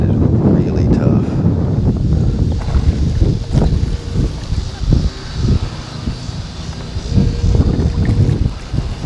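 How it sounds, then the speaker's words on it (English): Strong wind blows while fishing on a boat, a constant low roar buffeting the microphone with a steady rumble beneath, loud and close, with no clear pauses. "that wind is really tough."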